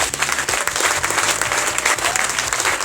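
A church congregation at a prayer evening applauds for the Lord, steady dense clapping throughout with some crowd noise and no voice on top.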